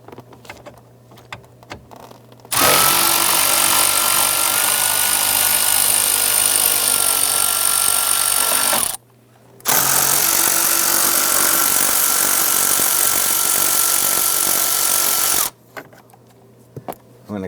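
Power tool driving out two 8mm screws under the knee board of a 1994-2004 Ford Mustang, two long, loud, steady whirring runs at close range split by a brief stop, with quieter stretches before and after.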